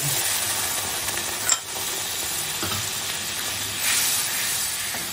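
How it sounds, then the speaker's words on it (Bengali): Ground spice paste with cardamom and a little water is sautéed in a pan for a prawn curry, a soft steady sizzle with brief spoon clatter and stirring, close and without voices. "একসঙ্গে মশলাটাকে কষিয়ে নেব, সামান্য একটু জল আছে"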